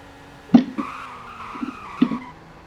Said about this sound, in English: Emergency braking,